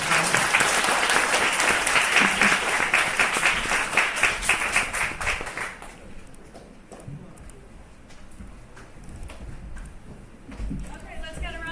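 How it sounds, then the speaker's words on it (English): Audience applause at a tech project presentation event, dense and loud clapping for several seconds before fading into scattered claps and room murmur with some talk. "let's get a round of applause for Waggy."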